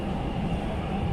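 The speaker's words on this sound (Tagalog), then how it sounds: "Umalis na ang tren." A departing train rumbles as a steady, broad low roar, continuous and fairly even throughout, with no voices over it.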